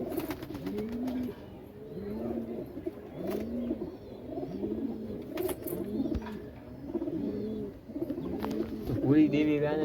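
Pigeons coo in a rhythmic run of repeated soft, throaty calls, close by and fairly steady, with some fluttering and background household noise toward the end.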